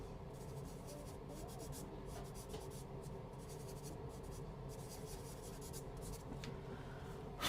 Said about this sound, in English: Blend that in, just push it into the paper.